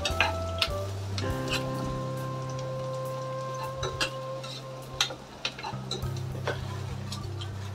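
Onions fry in a pan while a spinach mutton curry is being made, a close, steady sizzle with scattered crackles and occasional stirring clicks, under a low background tone.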